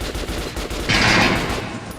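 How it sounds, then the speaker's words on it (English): An automatic machine gun fires in the video game Metro Last Light, a rapid rattling burst lasting under a second over continuous background game noise. "Let's try out our machine gun here."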